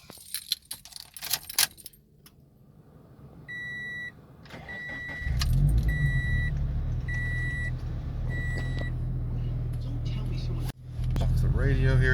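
Keys for a 2013 Scion FR-S with an IAG stage 2 turbo jangle loudly at the start; then the car's engine starts and idles steadily under a repeating dashboard chime.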